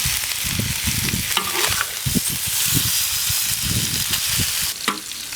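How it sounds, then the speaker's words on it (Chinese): Pork belly fries in a pan with a loud, steady sizzle. Crackles and spatters of fat rise over a constant hiss close by. "煎出油来，多煎一会儿。"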